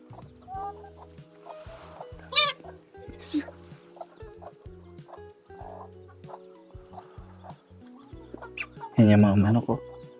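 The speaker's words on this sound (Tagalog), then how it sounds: "Tingnan natin yung manok." Chickens cluck and squawk in a mountain village yard in Bakun, Benguet, with scattered calls, a louder burst near the end, and voices in the background.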